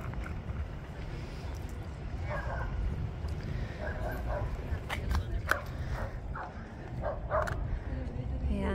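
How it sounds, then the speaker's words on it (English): Dogs at a waterfront harbor in Dana Point, several short yips and barks scattered over a steady low engine-like rumble, moderately distant, with people talking in the background. "There's doggies everywhere."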